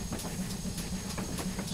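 A GWR Hall 4900 Class steam locomotive in a train simulator game, chuffing in a quick even rhythm of bursts over a low rumbling drone, loud and close, with no one talking.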